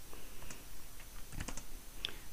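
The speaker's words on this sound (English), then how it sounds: "So we'll simply run this by typing Python and then hello.py." Quiet, scattered keystrokes on a computer keyboard as a command is typed to run a Python script, a handful of light clicks spread over a couple of seconds with no talking.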